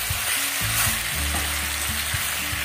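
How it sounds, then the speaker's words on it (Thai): Long eggplant and pork belly stir-frying in a pan, a steady close sizzle with repeated scraping and stirring strokes and no talk. "ขออนุญาตผัดก่อนนะคะ"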